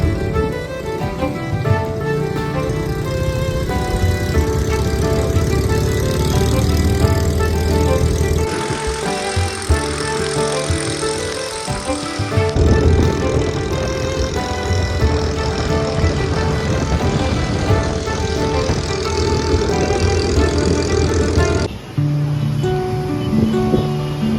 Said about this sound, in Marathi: अचानकपणे हे असा आवाज करायला लागलेली आहे गाडी